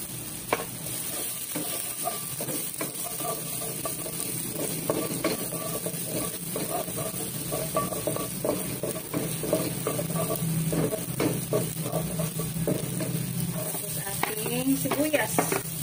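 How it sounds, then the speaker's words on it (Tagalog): Garlic frying in plenty of oil in a wok, a steady sizzle close by with stirring scrapes and clinks running throughout, growing a little busier toward the end, no talk. "Lagyan na natin yung ating bawang."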